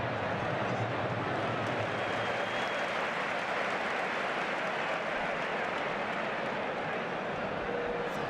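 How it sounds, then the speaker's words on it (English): A stadium crowd at a La Liga match between Real Madrid and Atletico Madrid applauds Pepe, a broad, continuous roar of distant clapping and crowd noise holding steady throughout. "Gets a round of applause, I'm not sure why."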